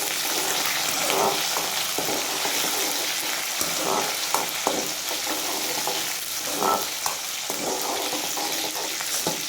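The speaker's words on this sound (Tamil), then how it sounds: "இப்போ நல்லா கிளறிக்கலாம்." Tomato chutney frying in a pan while being stirred, a steady close sizzle with repeated scraping and stirring strokes, no talking.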